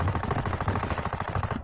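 Rapid automatic gunfire in a video game: one short, dense burst of evenly spaced shots, loud and close, with no talk over it.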